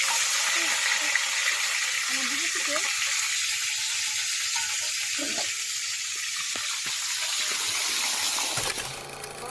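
Khoira fish fries in a pan with a loud, continuous, close sizzle and hiss that cuts off abruptly near the end, with a faint voice in the background.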